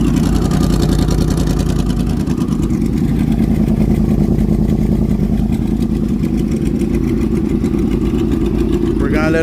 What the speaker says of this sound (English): We're gonna let them warm up and then we'll do some little revs.